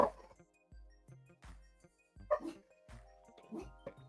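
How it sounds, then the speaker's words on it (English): Several dogs bark and yip in short repeated bursts at a moderate distance, the sharp calls recurring irregularly through the stretch while faint talk sits underneath. "Your dogs are making my dogs bark."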